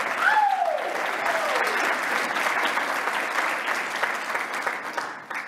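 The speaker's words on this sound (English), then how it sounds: "a round of applause for them" An indoor audience at the Ecomm Forum 2022 event applauds in a dense, sustained wash of clapping that holds steady for about five seconds and then begins to thin out. A brief tonal chirp rises near the start.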